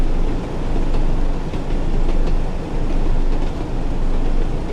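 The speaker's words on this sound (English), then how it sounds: "continue slowing this train down to 30 miles per hour now" A Class 101 diesel multiple unit slows down in the Train Sim World game on the Tees Valley Line. It makes a loud, continuous rumble with faint rhythmic clicks from the rails and no talking.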